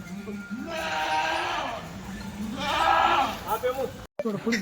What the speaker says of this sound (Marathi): हे बघा ही तेरावी शेळी